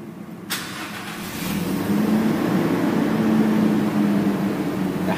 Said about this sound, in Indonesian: dia udah nyala mesinnya seperti ini. Suaranya lembut karena dia mesin bensin ya.